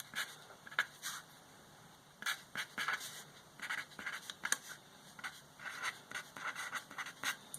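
A pen scratches across paper while algebra is written out, giving irregular bursts of short, dry strokes separated by brief pauses, close and fairly quiet.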